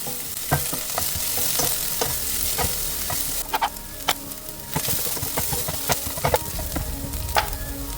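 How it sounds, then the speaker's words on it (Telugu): Onions frying in a little oil in a pan for mutton curry, a continuous close sizzle broken by repeated sharp scrapes and knocks of a spoon stirring, no talking. "ఆనియన్స్ లైట్గా బ్రౌన్ కలర్ వచ్చేదాకా ఫ్రై చేసుకుందాం."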